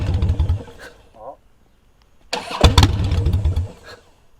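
A stalled Harley-Davidson motorcycle cranks and fires back up, settling into a loud, rumbling idle. People talk before and over the restart.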